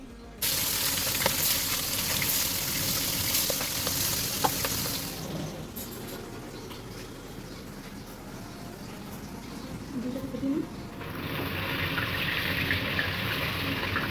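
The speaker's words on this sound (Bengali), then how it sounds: "এবারে কড়াইতে তেল দিয়ে মাছগুলোকে ভেজে নেব।" Fish pieces rubbed with turmeric and salt fry in oil in a kadai, giving a steady sizzle that fades lower midway, then swells louder again toward the end.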